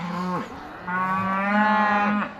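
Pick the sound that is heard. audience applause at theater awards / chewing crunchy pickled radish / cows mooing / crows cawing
cows mooing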